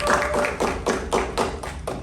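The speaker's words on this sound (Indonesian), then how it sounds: "Boleh gak minta tepuk tangannya sekali lagi?" Live audience applause at a public speaking and presentation session, loud and close, with rhythmic clapping swelling in repeated waves and no talk over it.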